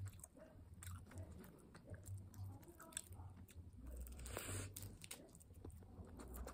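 A GS25 convenience-store triangle kimbap made with domestic rice being bitten and chewed close to the mouth, giving quiet, moist squishing and soft crunching of seaweed in an irregular rhythm, with no talk.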